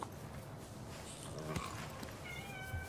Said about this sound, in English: You're a cat, not a dog.